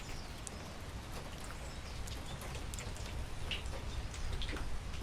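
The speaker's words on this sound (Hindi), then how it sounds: "इतनी ज़्यादा बारिश हुई है कि यहाँ पे सब पानी टपक रहा है।" Rainwater drips steadily onto wet surfaces beside a soaked wall after heavy monsoon rain, with scattered close taps over a constant low background hiss.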